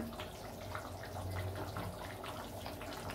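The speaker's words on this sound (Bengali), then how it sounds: "এর মধ্যে আমি কিছুটা গরম জল দিয়ে দিলাম" Hot water poured into a pot of Bengali chicken curry (murgir lal jhol), a quiet steady watery splashing and trickling with no talk.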